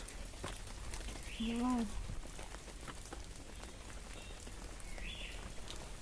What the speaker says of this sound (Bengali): আবার বৃষ্টি আরম্ভ হয়ে গেছে